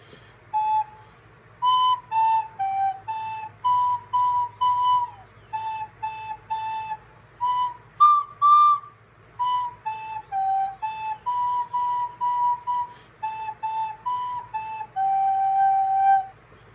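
A class of students plays recorders together in a music lesson, a slow sequence of sustained, breathy unison notes in short phrases with brief gaps between them, steady and moderately loud over a low background hum.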